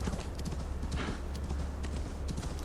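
Horse hooves galloping in Assassin's Creed Valhalla, a steady rapid clip-clop rhythm that carries on through the whole stretch at a close, even loudness, over a low rumbling background.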